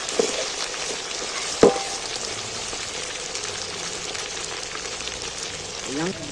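Chicken meat fries in oil in a pan, giving a continuous soft sizzle with a sharp utensil knock near the start and light stirring scrapes throughout.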